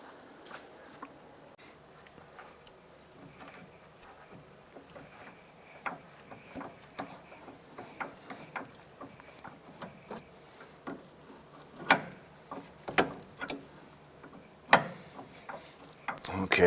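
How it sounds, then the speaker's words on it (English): Pliers gripping the inner tie rod of a 2001-2007 Ford Escape steering rack while a lock nut is broken loose, faint scattered metallic clicks and ticks growing sharper and more frequent toward the end. "grab a pair of pliers, hold the inner tie rod, and break this lock nut free"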